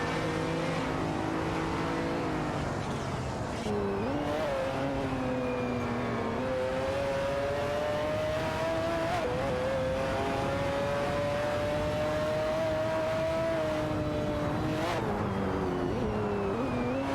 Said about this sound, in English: Car Z makes an aggressive move, overtaking Car A on the inside, gaining valuable ground